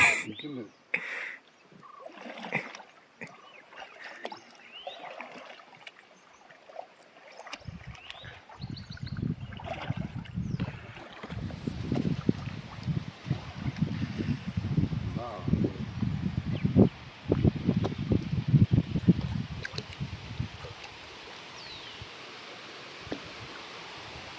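A small wooden boat is rowed on water in Wayanad. Quiet rustling opens the clip, then irregular low splashes and knocks of the paddle strokes follow from the middle onward, with people talking now and then.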